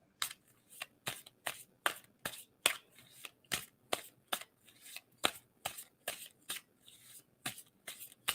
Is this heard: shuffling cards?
yes